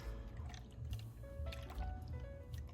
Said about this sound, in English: So I just pour my milk in